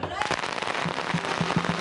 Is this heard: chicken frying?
no